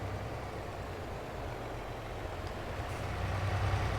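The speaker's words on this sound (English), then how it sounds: "I hear another engine passing me" A vehicle engine in Farming Simulator 22 rumbles low and steady, growing slightly louder as it passes close by, with no talking over it.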